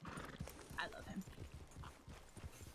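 A horse in the video game Red Dead Redemption 2 plods with quick, soft clip-clopping hooves throughout, heard faintly under people talking.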